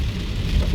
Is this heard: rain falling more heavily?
yes